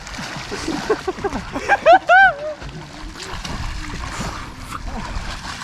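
People swim and splash in a lake, with water sloshing and splattering close by while voices talk and call out over it, and a short burst of excited shouting near the middle.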